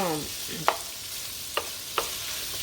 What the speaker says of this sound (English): we're just gonna cook this bacon right into these potatoes